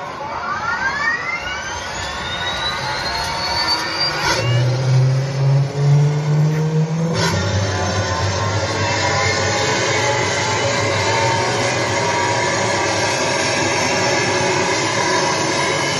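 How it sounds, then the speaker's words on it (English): A jet-like roar with rising whine sweeps plays as the forward thrusters engage in a robot show at Butlins, building into a loud, steady rushing drone with a deep rumble that holds throughout. "Engaging forward thrusters."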